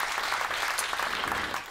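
Audience applause from a packed concert hall crowd, a dense steady wash of many hands clapping close by, loud and continuous with no voices over it.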